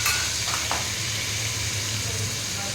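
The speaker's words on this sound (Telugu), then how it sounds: "చికెన్ వేసుకున్న తర్వాత ఒకసారి నీట్గా కలిపేయాలి" Chicken sizzles and fries in a pan for gongura pulao, with salt and turmeric added, while a utensil stirs it, a close, steady crackle with a couple of brief scraping strokes.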